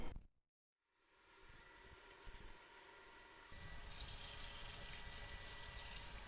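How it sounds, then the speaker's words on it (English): Ten gallons of water gush steadily into a plugged foam shower tray for a flood test, a continuous rushing pour that grows louder and brighter partway through, with no talking. "Dump 10 gallons of water in here for our 24-hour flood test."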